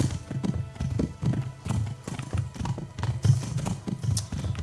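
A horse's hooves clip-clop steadily in Kingdom Come: Deliverance, a close, continuous rhythmic patter of hoofbeats on the ground with a faint background bed.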